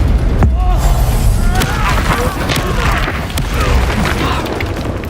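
Confringo, a fiery explosive spell, cast during combat in the video game Hogwarts Legacy: a loud, sudden blast erupts early and gives way to a dense, rumbling crackle of battle effects that carries on to the end.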